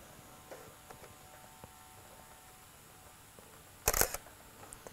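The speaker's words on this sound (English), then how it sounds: "Now, create a faster shutter speed, so move it up to 1/30 of a second and take another photo." A camera shutter set to 1/30 second fires once, a single brief mechanical click-clack close up against a quiet room with faint background hum and a few small handling ticks.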